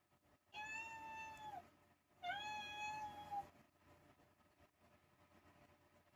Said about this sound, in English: Alexa, play a cat meowing.